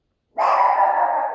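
A single loud, close dog bark held as a drawn-out, noisy yelp that starts abruptly after silence and fades slightly, heard alone with no talk.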